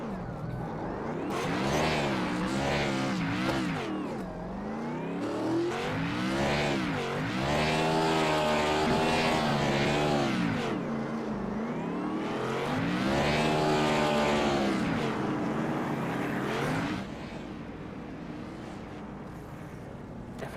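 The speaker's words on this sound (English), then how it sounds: "Definitely not the last time we'll see him doing burnouts at this track." Stock car in a racing video game doing burnouts at Dover, engine revving and wailing in repeated rising and falling sweeps, loud and continuous, easing off near the end.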